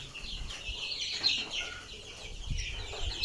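Farm roosters and chickens cluck and call in a poultry room, faint and somewhat distant, with scattered soft clucks over quiet background noise.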